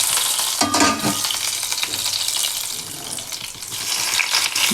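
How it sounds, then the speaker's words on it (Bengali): Cardamom and cinnamon hit hot oil in a Bengali chicken and yogurt dish. They give a bright, steady sizzle with short bursts of stirring and clatter, close up and with no talking. "তাই ফোড়নে আমি এলাচ দিয়ে দিলাম, দারচিনি"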